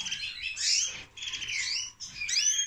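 A goldfinch of a Spanish singing line sings in close bursts of bright, twittering trills and warbles, with two short breaks between phrases and no talking.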